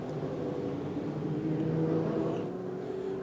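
A modlite race car on a speedway straightaway, the Scooby-Doo car, hums steadily as it slows, a constant engine drone at moderate distance.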